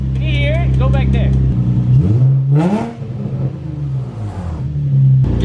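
An LS V8 swapped into a Nissan 350Z revs hard and close, the engine note climbing and falling through several sharp blips toward redline, with a loud roar near the end and a voice talking over it.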